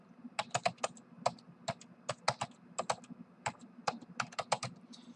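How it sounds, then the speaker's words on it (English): Fingers type a domain name on a computer keyboard, a quick run of crisp, close key clicks in irregular bursts with short pauses, quiet and free of speech. "we're going to type in the domain"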